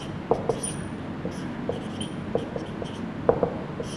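A pen or marker taps and scratches while writing a chemical formula by hand, producing faint, scattered strokes over a steady background hiss, with no talking.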